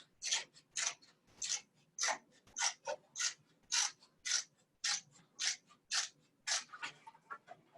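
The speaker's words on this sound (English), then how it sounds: "you can use just a traditional scissors" Scissors cutting through hide, about fourteen crisp snipping crunches in a steady, evenly spaced rhythm, close and clear with no talking.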